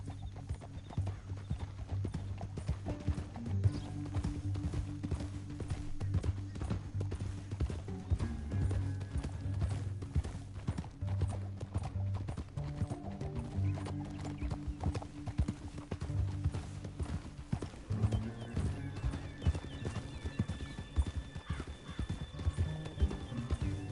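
Steady clip-clop of horse hooves at a walking pace in Red Dead Redemption 2, continuous throughout, with a low droning backdrop and an occasional faint whinny.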